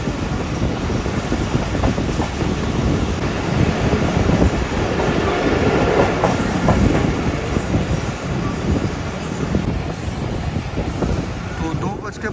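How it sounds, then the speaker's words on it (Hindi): The Allama Iqbal Express rolls into a railway station with loud continuous rumble, rhythmic wheel clatter and a sustained high squeal, heard from inside the coach. "तो 2:55 तकरीबन हमारी ट्रेन अप्रोच बना रही है कुपवाड़ा रेलवे स्टेशन पर।"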